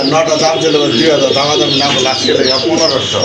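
A female Sirazi pigeon coos in repeated throaty bursts over other birds' chatter, with a voice talking throughout at close range.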